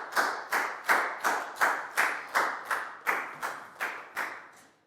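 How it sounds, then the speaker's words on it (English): A classroom of students claps for a classmate in a maths lesson, a dozen or so distinct, evenly spaced rounds of clapping, close and fairly loud, fading at the end, with no talking. "Big round of applause for down,"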